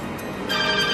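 A mobile phone rings inside a microwave oven, a short burst of steady electronic ringing that rises and holds clearly in the second half of a brief moment.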